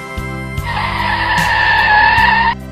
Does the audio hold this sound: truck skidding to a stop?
yes